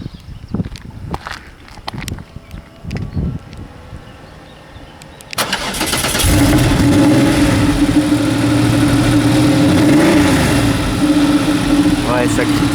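A Porsche 911 Carrera RS track-prepared engine starts with a sharp catch after a few clicks and thumps, then settles into a loud, rumbling idle with a brief rev.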